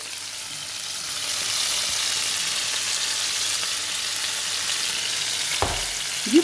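Onions and rice frying together in a pan as they turn golden, giving a steady, even sizzling hiss throughout, with a brief utensil clatter near the end.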